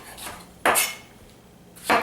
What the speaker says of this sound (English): So start chopping.